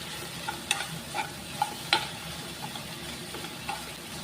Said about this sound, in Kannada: ಇವಾಗ ಅದನ್ನು ಫ್ರೈ ಮಾಡೋಣ. ಫ್ರೈ ಇದನ್ನು ಐ ಫ್ಲೇಮಲ್ಲಿ ಇಟ್ಟು ಹೀಗೇ ಮಾಡಬೇಕು.